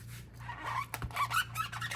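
Short squeaky rubbing sounds of stamp blocks being wiped clean come in quick bursts, close up, over a steady low hum, with brief scrapes between them.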